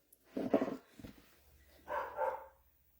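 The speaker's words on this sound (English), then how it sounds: "home alone and my dogs are barking." Dogs at home let out two separate barks, a few low woofs and then a second burst, heard indoors at moderate distance with a faint hum behind them.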